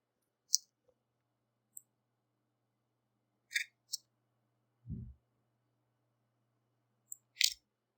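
Sparse, crisp clicks sound on a quiet background as a computer mouse is used in Illustrator, arriving singly and in quick pairs with a soft thud between.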